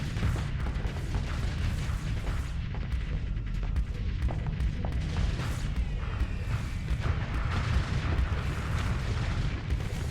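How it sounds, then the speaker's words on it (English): Lasers and void rays fire continuously in the space combat game Starsector, a dense, steady barrage of booming, crackling weapon blasts that fills the whole stretch with no pauses. "Keep your guns firing. Keep your void rays firing."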